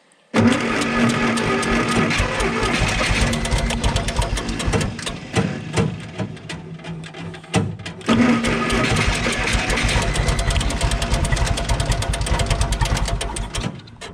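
A long-parked Bombardier Snow-Cat plow cranks hard on its starter in two long, rapid, chugging bursts separated by a short break, loud and close, without catching.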